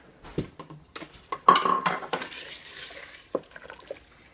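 A utensil stirs diced potatoes and vegetables for chicken and dumplings in a pot, with clinking and scraping strokes and a short rustling swirl, close by and moderately loud, with no voices.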